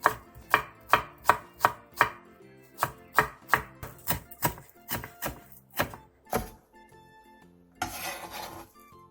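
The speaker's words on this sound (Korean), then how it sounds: "대파 1개는 어슷썰게 해주세요." A knife slices a leek-type green onion diagonally on a cutting board while preparing a cabbage dish: a steady run of close, crisp chops, then a few scattered knocks and a brief rustle, with no talking.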